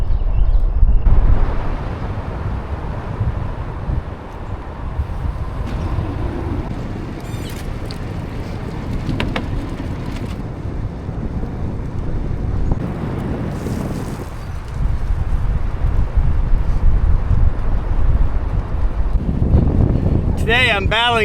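Strong northwest headwind buffets the microphone while cycling along a trail near Richmond, Virginia, a steady loud low rumble with gusty surges throughout and a person talking over it.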